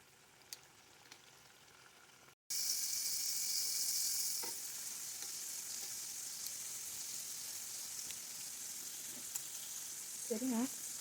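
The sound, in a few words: vegetables pre-frying in oil at medium heat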